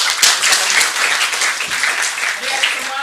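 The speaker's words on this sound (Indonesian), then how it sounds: "Boleh tepuk tangan untuk kita semua." Student audience applauding during a stadium general entrepreneurship seminar, a dense steady patter of clapping lasting a few seconds with some voices mixed in.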